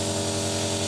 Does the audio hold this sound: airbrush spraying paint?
yes